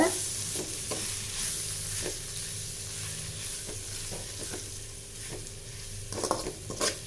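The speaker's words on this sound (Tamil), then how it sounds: "இது நல்லா இந்த எண்ணெயிலே நல்லா வதங்கணும்" Curry leaves and roasted spice powder fry in oil for a garlic curry leaf kuzhambu, with a close, continuous sizzle and repeated stirring scrapes of a spoon in the pan, more agitation near the end.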